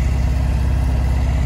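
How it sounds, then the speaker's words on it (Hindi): Mahindra tractor hauling a loaded trolley: a close, steady diesel rumble with a low, pulsing throb that holds an even pace without revving. "पीछे तो ट्रैक्टर है महिंद्रा यूवो 475"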